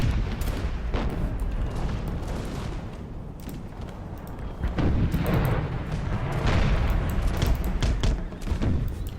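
Musket fire from sniping infantry in the Imperial Splendour Russia game, a dense, continuous crackle of overlapping shots and booms rolling in waves, loud and sustained with no pauses.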